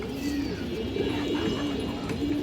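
Road master pigeons, lively birds with purple legs and white plumage, coo in soft, repeated low throaty rolls, close by and steady, with no talking.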